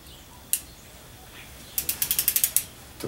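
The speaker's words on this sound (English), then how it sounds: "using the tension handle, apply just enough tension" Tension handle on a Pro Bander banding tool ratcheting: a single sharp click, then a quick even run of about eight close, crisp ratchet clicks, near and alone with no talk.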